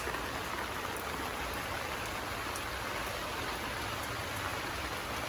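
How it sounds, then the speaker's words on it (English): Heavy rain pours down in a constant, dense hiss with no letup, close and loud throughout. "the rain is really coming down"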